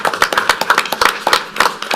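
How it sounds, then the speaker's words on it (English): Applause at a school board of trustees meeting as the audience claps for choir students, a dense run of overlapping handclaps at moderate distance, steady and sustained over two seconds with no talking. "let's give them a round of applause"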